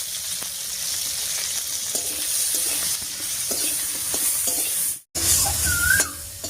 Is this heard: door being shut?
no